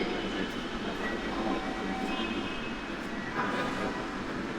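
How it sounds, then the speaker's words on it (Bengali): Low rumbling metro train noise at Shewrapara station platform on the Dhaka Metro Rail, a steady mechanical drone with faint squeals and no talking. "আমরা শেওড়াপাড়া মেট্রো স্টেশনের প্ল্যাটফর্মে আছি"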